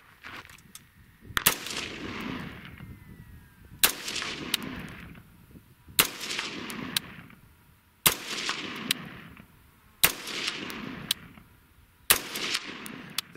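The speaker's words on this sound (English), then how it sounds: "the gun cycles, and you pull the trigger again. That's what semi-automatic means." A semi-automatic gun fires six single shots at regular intervals of about two seconds, each a sharp loud crack followed by a long rolling echo that fades before the next.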